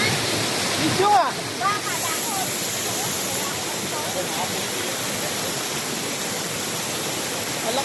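Strong river current flowing in a steady, broadband rush of water, loud and continuous throughout, with a brief disturbance near the start.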